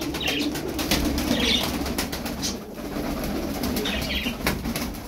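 A flock of twelve tumbler pigeons flies overhead with repeated bursts of wing flapping and clattering, close and fairly loud, with a few soft coos over steady outdoor noise.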